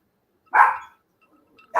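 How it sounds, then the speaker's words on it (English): Dogs bark in two sharp bursts, the first loud and close, then a pause before another bark starts at the end; no one speaks. "so the dogs are losing their minds"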